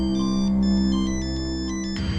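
A phone ringtone plays a steady, repeating electronic melody at close range for about two seconds, then cuts off abruptly.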